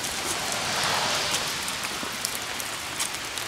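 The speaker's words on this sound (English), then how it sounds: "It's been raining like this all week. Like pretty much non-stop, just raining" Steady rain falling outdoors on saturated ground, a dense continuous hiss with scattered close drops pattering on surfaces, no talking.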